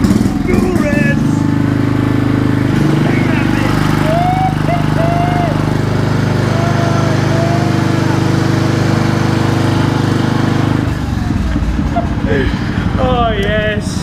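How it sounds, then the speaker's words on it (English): A turbocharged lawnmower engine runs loudly and steadily up close, a constant droning roar throughout, with someone talking over it at times and whooping near the end. "a turbo lawnmower."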